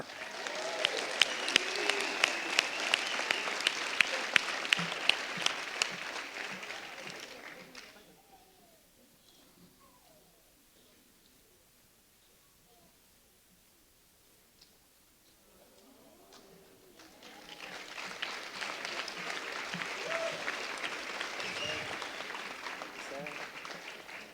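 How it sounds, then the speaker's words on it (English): Crowd applause for graduating firefighters of classes 103 and 104 swells loudly, fades to near silence in the middle, then rises again. Talk is mixed in with the clapping. "Let's give them all a round of applause."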